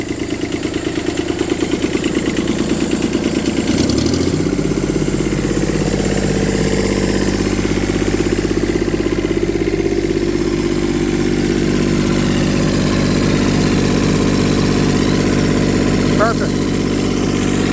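An IH Cub Loboy 154 tractor with a swapped-in diesel engine fires up after its air is bled, then settles into a loud, steady, even idle with a constant low throb for the rest of the clip.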